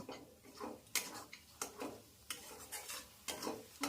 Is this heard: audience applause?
no